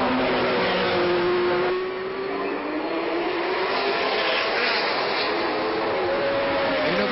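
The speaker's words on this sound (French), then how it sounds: "Une voiture passe assez au ralenti." A racing car at the 1963 Monaco Grand Prix, Brabham's car in trouble, rolls past slowly. Its engine note drifts gently in pitch over a continuous wash of ambient noise.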